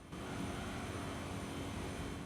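Turbocharged car engine in Gran Turismo 3, a faint, steady droning roar held at an even level after a brief quiet start, with no voices.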